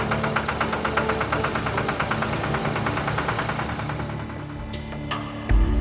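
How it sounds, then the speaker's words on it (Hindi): A tractor engine running in a cartoon story setting, with a steady rhythmic knocking chug at idle that holds for several seconds, close and fairly loud, before easing off and ending in a low thump. "फिर बाद में ट्रैक्टर लेकर घर जाता है।"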